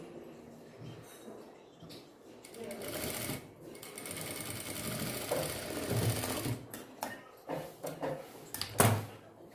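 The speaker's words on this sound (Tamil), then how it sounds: "நான் வந்து தையல் போட்டுக்கிட்டு இருக்கேன்." A sewing machine runs in steady bursts of close, rattling stitching on a small doll dress, then stops and starts in short spurts near the end, with a voice talking softly under it.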